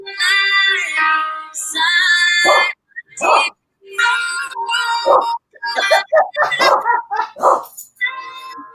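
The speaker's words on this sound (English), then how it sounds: "Even the dog's getting down." Dogs bark and yip in quick, excited bursts alongside high-pitched whining howls, close and loud, with short pauses between outbursts.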